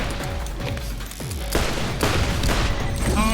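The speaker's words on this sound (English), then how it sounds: "I threw a grenade too close to myself" In a Borderlands shooter, a grenade blows up close to the player amid a rapid barrage of gunfire, with sharp booms and crackling bursts stacked loudly together and no voices.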